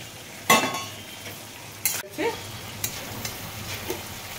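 Fried potatoes are tipped into a simmering Bengali meat curry with yogurt, a soft sizzle broken by a few sharp scrapes and clinks of a spatula against the pot.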